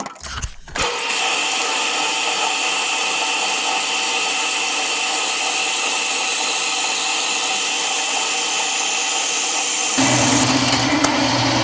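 A power tool runs a steady, loud, whining cut through metal pieces for a snow plow build, holding one even tone for about nine seconds before the pitch shifts near the end.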